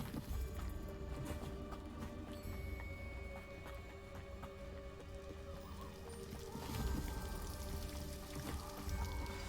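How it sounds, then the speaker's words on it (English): A waterfall in the Hogwarts Legacy video game gives a steady, dense rushing roar that fills the whole clip, with faint ambient game sounds mixed in and no talking. "Oh, that's the waterfall over there."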